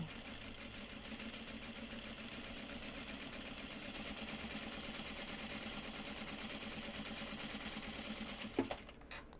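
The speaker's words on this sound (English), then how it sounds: "we're getting into the actual sewing part" A sewing machine stitches upcycled obi and kimono fabric in a steady, continuous whir that runs almost unbroken, close and even, ending with a brief clack and a pause.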